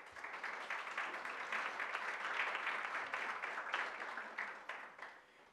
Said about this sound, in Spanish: Pido un aplauso para ambos.